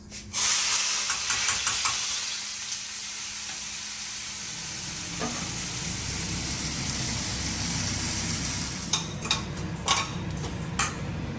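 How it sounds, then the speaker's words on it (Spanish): Washed rice hits a hot pan for red rice and sizzles loudly at first, then settles into a steady frying hiss, with a few light clicks and scrapes from stirring near the end. "Y vamos a poner el arroz que ya habíamos lavado. Lo sacudimos bien y lo agregamos."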